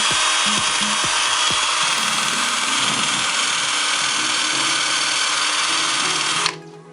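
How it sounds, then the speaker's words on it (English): A power-driven wire brush spins at full speed against brake parts, making a loud, harsh, continuous grinding hiss that holds steady for several seconds and then cuts off abruptly near the end. "basically take the wire brush full speed and clean the same area."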